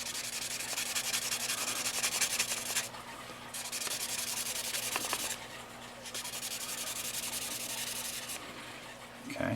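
A bolt from a Food Fight control panel is rubbed with 1500 grit sandpaper while being rotated by hand, giving a continuous close scratchy hiss that stops briefly twice and then resumes in long, steady strokes.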